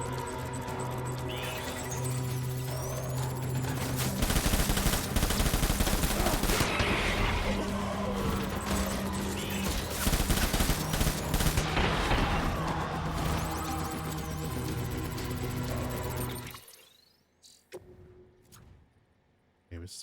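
Gunfire in the video game Death Stranding, dense chaotic bursts and crashing impacts mixed with game noise and someone talking, running loud for most of the stretch before dropping away to sparse clicks.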